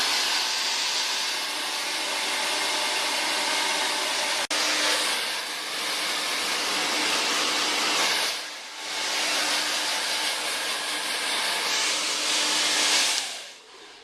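A hair dryer rough-dries a child's long, below-shoulder hair with a loud, steady, close whoosh. The airflow dips briefly about two-thirds of the way through and cuts off at the end.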